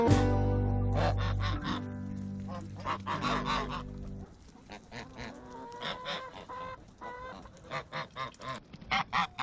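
Geese honk loudly in a yard kept with chickens and ducks, a burst of close calls followed by a string of quicker, shorter honks and squawks.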